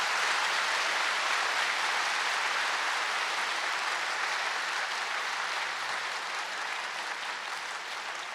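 A hall full of people at a spiritual yoga gathering clapping loudly and steadily for over eight seconds, a dense even roar of hands that fades only slightly toward the end, with no talking over it.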